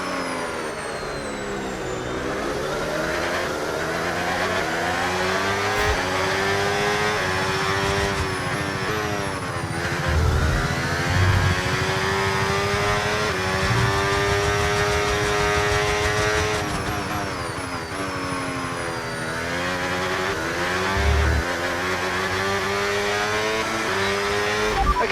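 F1 race car engines from the F1 video game, racing at Montreal with overtake boost: a high-pitched hybrid engine screams continuously, climbing through gears and dropping on downshifts, with occasional tire squeal and no speech.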